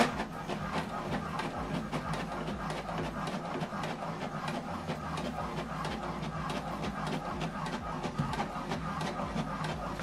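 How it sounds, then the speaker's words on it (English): An HP Deskjet wireless printer prints a document, its mechanism chattering in a steady rhythm of rapid clicks and carriage shuttling over a low motor hum, heard close and without talk. "So this document now is printing."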